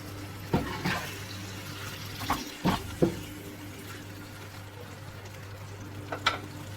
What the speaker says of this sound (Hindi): 2 टीस्पून अदरक लहसुन का पेस्ट। इसे हम हल्का सा फ्राई करेंगे।